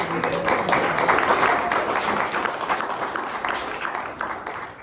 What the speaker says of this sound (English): a round of applause for our MC, Brad Pettitt.